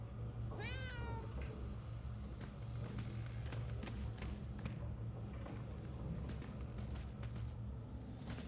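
A cat in the Murdered: Soul Suspect video game gives a single clear meow early on, followed by scuffling footsteps and soft thumps over a low rumbling game ambience.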